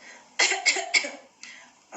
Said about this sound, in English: I don't want the coughing part, so let's hear it first